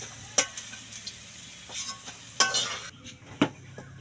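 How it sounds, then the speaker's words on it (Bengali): Beans sizzling in a frying pan with scattered clinks and scrapes of a utensil stirring, several sharp knocks standing out over the steady hiss. "এরপর বিনসগুলো দিয়ে দিলাম ভাজার জন্য"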